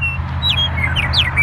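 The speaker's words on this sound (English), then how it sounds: "That bird up there is a western meadowlark" Western meadowlark singing outdoors under open sky: a series of clear, bright whistled notes sliding downward, fluted and fairly loud over a steady low rumble of wind or distant traffic.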